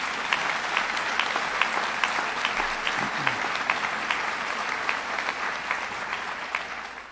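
An audience claps through a re-accreditation ceremony for a national comprehensive cancer centre, giving a dense, sustained round of applause that stays even throughout with no voices over it.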